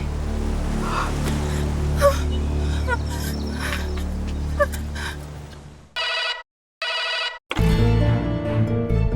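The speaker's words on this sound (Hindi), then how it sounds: "वो महर, तूने फोन कर लिया हमें," A telephone rings in short, loud bursts with gaps between them, following a stretch of background sound.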